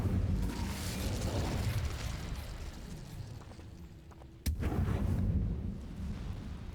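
A fire spell cast in a Hogwarts Legacy fantasy game, heard as a loud, dense roaring burst with a crackling rush that dips briefly and then surges again.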